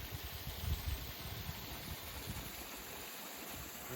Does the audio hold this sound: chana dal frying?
no